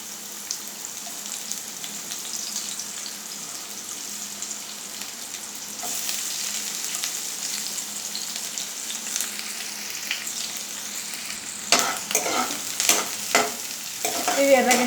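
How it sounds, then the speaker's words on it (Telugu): Onions and green chillies fry in hot oil with a steady, close sizzle, joined partway through by louder stirring scrapes and clatter near the end. No one speaks. "ఇప్పుడు ఉల్లిగడ్డ పచ్చిమిర్చి వేద్దాం."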